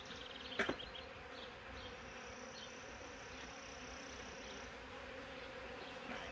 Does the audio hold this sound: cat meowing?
no